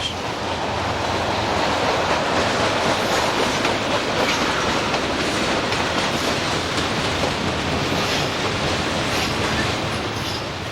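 A heavy westbound freight train of empty automobile carriers, hauled by a pair of 4,000-horsepower General Electric diesel locomotives, rumbles steadily past in Pennsylvania with a continuous roar of wheels on rails and droning engines, loud and unbroken.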